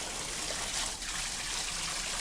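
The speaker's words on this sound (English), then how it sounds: "Like we got a little trickle coming out the other side." Water trickling from a pump outlet on a square-body truck build, a faint, steady hissing flow with a slight swell near the middle.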